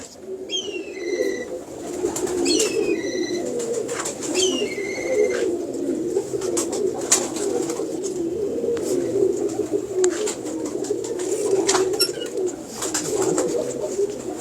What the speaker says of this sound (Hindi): ये अलमारी वाले कबूतर हैं, बड़े ही शानदार, बड़े खूबसूरत कबूतर हैं